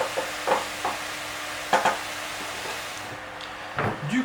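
Pak choi and stuffing mixture with ginger and coconut cooking in a pan, a steady soft sizzle with a few scraping stirs and light clinks close by.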